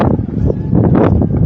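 Gusty wind rumbles and buffets an Insta360 One X2 camera microphone at Willoughby Heritage Farms on a very windy day, a continuous, close, loud roar with no talk.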